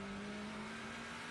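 A BMW race car in third gear pulls out of a chicane at the 24 Hours of Le Mans, a steady, fairly faint engine drone with a sustained low tone and no voices.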